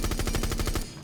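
Rapid automatic gunfire from Thatcher's weapon in Rainbow Six Siege, a steady burst of close, loud shots through about three quarters of a second before it cuts off.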